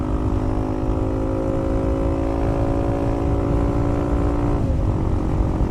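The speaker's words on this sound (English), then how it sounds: "my bike is going so slow right now" A Yamaha XT250 motorcycle rides along with a steady, droning engine hum and strong low rumble of wind buffeting, continuous and close throughout, with a brief dip in engine tone near the end.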